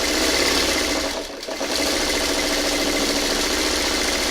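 A sewing machine stitches fabric with a steady, close mechanical whir that dips briefly near the middle before running on evenly.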